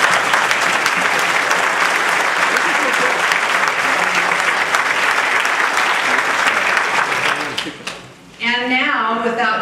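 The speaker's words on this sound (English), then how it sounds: "Let's give everybody a round of applause." A speech contest audience breaks into a sustained, dense round of applause at a district spring conference, steady and loud for most of the stretch, then tapering as a voice begins speaking near the end.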